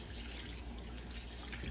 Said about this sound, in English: Okay, so in goes the water.